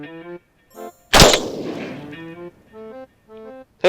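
A single loud gunshot cracks sharply in the middle of talk, with a short decaying echo, as people speak before and after it.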